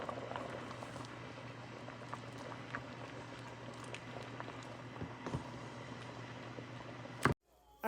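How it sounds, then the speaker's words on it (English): Continuous bubbling and gurgling of water boiling in a pot of rice for chicken biryani, with a low steady hum beneath, ending in a brief clatter. "we're just going to add it to the boiling water"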